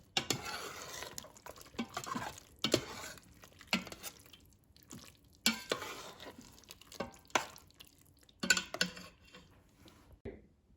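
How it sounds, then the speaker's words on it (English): Cooked boxed Hamburger Helper noodles being stirred in the metal inner pot of an Instant Pot, with a spoon scraping and clacking against the pot in repeated close, uneven strokes and soft wet squelching between them. "So just mix it and you'll see that the noodles are cooked to perfection."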